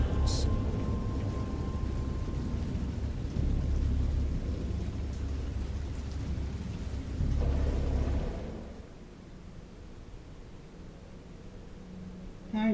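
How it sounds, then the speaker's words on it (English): Heavy thunderstorm with a steady roar of rain and rumbling thunder through the first eight seconds, then easing to a softer, thinner rain wash, with a brief rise again at the end. "I know that I heard pearls of thunder and other tones which nature utters only in her wildest moods."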